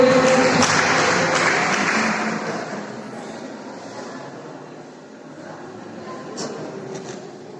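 A crowd at a New Year 2022 celebration applauds to welcome a guest called up to the front. The clapping starts loud and full, then thins and fades to a lighter patter.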